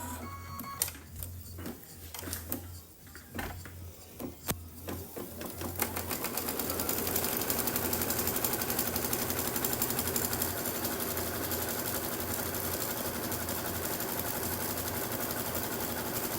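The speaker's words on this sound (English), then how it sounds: "So now we'll stitch out a placement line for the batting." A Brother Luminaire embroidery machine stitches a placement line through a hooped stabilizer. A few clicks and taps lead into a steady, loud, rapid mechanical whirring that runs without a break.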